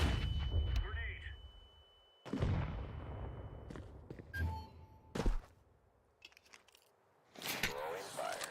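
Grenade and incendiary blasts in Counter-Strike 2, with several heavy thuds and explosive bursts spaced across the clip amid gunfire, footsteps and game voice callouts.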